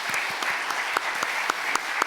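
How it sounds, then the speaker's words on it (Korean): Steady applause from a church congregation at a retirement ceremony, a dense patter of clapping with a few sharper claps standing out, moderately loud and continuous. "우리 박수로 격려해 주시기 바랍니다"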